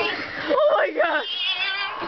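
A person imitates a cat, producing a short, rising and falling meow-like wail that is close and clear and lasts about a second.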